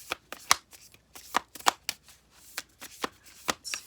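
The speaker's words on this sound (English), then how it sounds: "this deck is a little hard to shuffle" A deck of tarot cards being shuffled by hand, a run of quick papery riffles and slaps in uneven bursts, close and clear with no talking.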